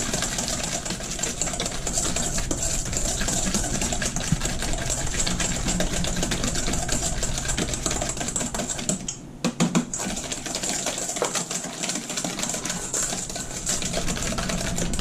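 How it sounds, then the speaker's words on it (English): Eggs and sugar whisked together with a small whisk, a fast, steady clicking rattle that runs close and loud throughout, with a brief pause near the end and no talk. "You're gonna whisk your eggs and sugar together."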